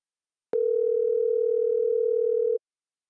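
A telephone dial tone sounds while a call is being placed: a single steady, unbroken electronic hum that starts abruptly, holds at even loudness for about two seconds, then cuts off cleanly, with silence around it.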